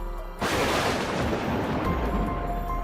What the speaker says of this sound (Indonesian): Dan terdengarlah suara ledakan yang amat dahsyatnya